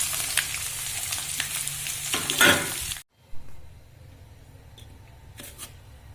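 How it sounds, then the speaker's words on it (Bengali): Capsicum and beans sizzle and crackle as they are stir-fried together in a pan for fried rice, a loud steady frying hiss with stirring scrapes that cuts off abruptly midway, leaving only faint quieter sizzling afterward. "এবার আমি ক্যাপসিকাম আর বিন একসাথে ভেজে নিচ্ছি"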